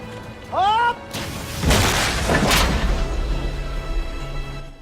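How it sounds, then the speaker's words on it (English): A cannon test-fires with a heavy boom and crashing rumble, then another loud cannon blast follows, echoing over a noisy, busy background. "Cannon testing commences"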